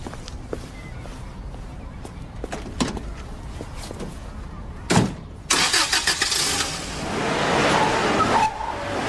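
A truck engine cranks and catches after a few thuds and footsteps, then runs at a rising, steady idle at moderate distance. Its texture is rough and noisy.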